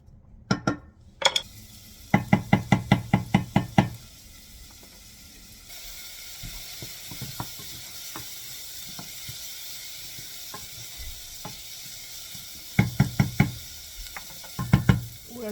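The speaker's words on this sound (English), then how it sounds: "saute the onion for a couple of minutes" Chopped onion with a little salt sautes in a pan with a faint, steady sizzle, interrupted by loud bursts of rapid, regular ratcheting clicks near the start and end.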